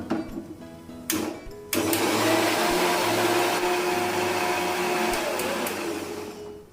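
A mixer grinder blends fresh cream into a paste, starting with brief stop-start bursts and then settling into a loud, steady whirring drone that fades slightly toward the end.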